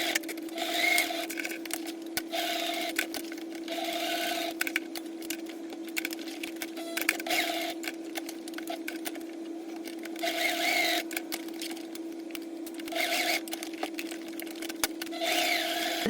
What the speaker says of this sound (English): we're going to do a box X stitch in this gap between the two bits of hardware